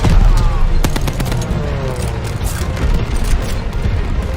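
A BREN gun with drum magazines fires in Call of Duty Vanguard during the El Alamein battle, with loud close bursts over a dense rumble of combat and explosions, with some speech mixed in.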